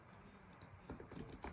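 Keys clatter on a computer keyboard while someone enters a title in editing software, soft scattered taps early giving way to a denser burst of quick strokes near the end, close and fairly quiet.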